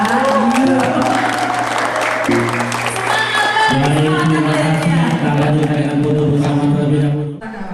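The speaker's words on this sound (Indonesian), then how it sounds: "Tepuk tangan dong, Pak." Crowd applause at the opening ceremony of the PELSA 2023 sports event in a Palembang multipurpose hall, loud and continuous beneath droning, tonal music, with some voices mixed in.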